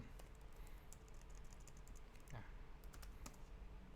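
Keys clatter in a quick, uneven run as a Python command is typed at a terminal on a computer keyboard, faint and close, with no voices.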